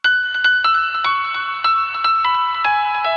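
Piano playing a harmony line in a remix: a short series of struck chords and notes, each ringing and decaying before the next, clear and alone over faint low background.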